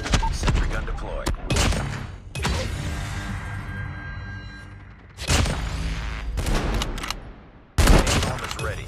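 Automated sentry gun firing in COD Mobile, bursts of rapid gunfire in several loud clusters with gaps between, over ongoing battle noise and occasional voice callouts.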